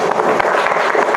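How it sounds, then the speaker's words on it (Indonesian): Classroom applause for a student, a short burst of steady clapping from a small group, close and fairly loud. "Beri tepuk tangan untuk Mbak Aski."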